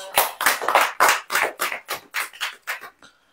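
An audience claps hands in rhythmic unison, about ten loud sharp beats at an even pace, then stops abruptly, with no voices over it.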